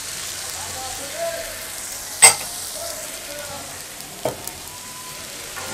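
Washed polao rice with masoor and mung dal fries in a pot for beef khichuri, a soft steady sizzle broken by a few sharp stirring clinks and scrapes.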